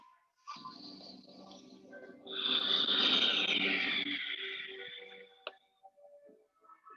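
Deep, slow breathing during a guided breathing exercise, with a soft inhale followed by a longer, fuller breath that swells and fades, close and fairly quiet with no talk.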